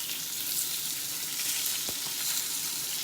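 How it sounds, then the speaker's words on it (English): Fresh spinach sautéing in a pan gives a steady, soft hiss of sizzling with a brief clack of a utensil near the middle; no one talks. "I'm sauteing some fresh spinach"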